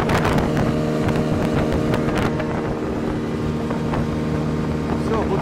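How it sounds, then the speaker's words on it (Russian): A Vikhr 30 outboard motor runs steadily on a Kazanka boat, a loud continuous engine drone with wind buffeting the microphone and a voice speaking over it. "Подождем, когда мотор заглохнет."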